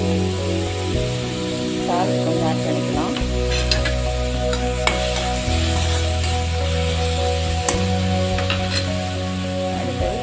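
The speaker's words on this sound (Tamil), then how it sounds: "வெங்காயத்தை பொடிச்சா நறுக்கிட்டு போட்டிருக்கோம் அது நல்லா வதங்கட்டும்" Finely chopped onions and a couple of green chillies sauté in a pan for a drumstick kosthu, giving a steady sizzle with occasional stirring scrapes over a sustained tonal background.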